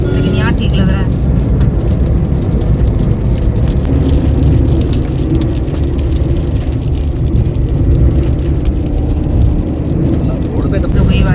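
Steady rain drums on a car roof over a low engine hum, constant and close throughout, with occasional louder drops.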